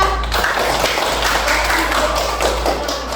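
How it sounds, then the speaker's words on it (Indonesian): Children clapping in an elementary school classroom, close, brisk hand claps with some tapping and thudding, fairly loud and continuous. "Tepuk tangan untuk Esa."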